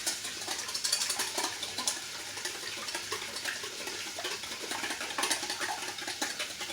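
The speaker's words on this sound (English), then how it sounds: "Get my whisk going." A wire whisk beats eggs in a bowl, producing quick repetitive clinking and sloshing strokes that come in uneven bursts, fairly close and moderately loud, with no voices.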